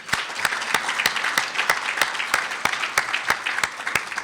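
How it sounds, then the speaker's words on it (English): Luncheon guests at a business event give a round of applause for the people who prepared and served the food, with a thin patter of clapping under sharp, evenly spaced loud claps from one nearby pair of hands. "I'd like to begin by asking if you could join me in a round of applause for those who prepared and served our food today."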